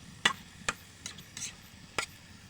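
Duck meat with spices stirred in a pan, a few sharp, scattered spoon scrapes and clinks against the metal over a quiet background.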